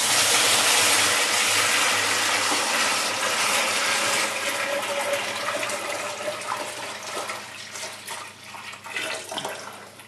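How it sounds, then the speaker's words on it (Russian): Sugar syrup is poured into a canister while preparing a sugar mash for moonshine, a steady loud rush of liquid that gradually thins and turns splashy toward the end, with no talking. "Заливаем сироп в канистру."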